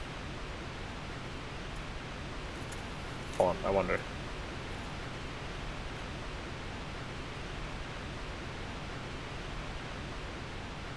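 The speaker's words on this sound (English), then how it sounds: "Climb up the goddamn waterfall." Steady broadband rush of a waterfall in Dark Souls, continuous and even throughout, with a short tonal sound partway in and a person talking over it.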